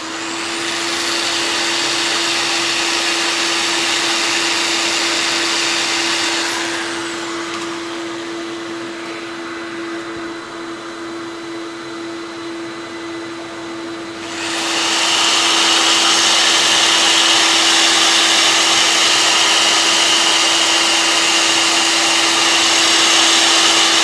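A power sander works wood with sandpaper, giving a loud, steady motor whine that drops away for several seconds in the middle, then resumes just as strongly, with no talking.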